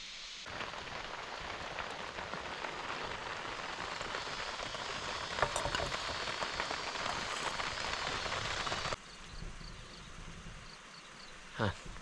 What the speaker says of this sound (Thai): ฝนเศร้าตกอีก